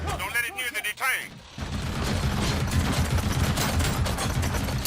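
Video game gunfire in a RoboCop shooter: a dense, continuous burst of rapid shots filling the latter part, preceded by brief clattering sounds, loud and close.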